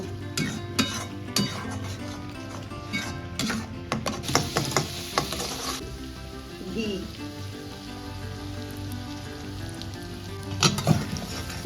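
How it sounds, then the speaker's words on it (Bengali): Ground spice paste with salt, turmeric, Kashmiri chilli powder and a little sugar sizzles in a pan, broken by repeated scraping and clinks of a spoon stirring against metal, some louder strokes near the end. "এবার মশলাটা খুব ভালো করে কষিয়ে নেব।"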